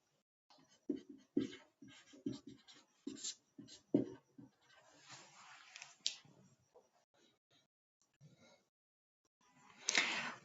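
Pen scratching on paper while writing math notes for a Class 10 NCERT exercise: quiet bursts of scribbled strokes and taps, close and fairly faint, with short pauses between them and no talk.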